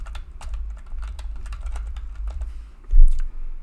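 Fingers type a server name on a computer keyboard in a quick, uneven burst of close key clicks, with a heavier thump near the end like a final key press.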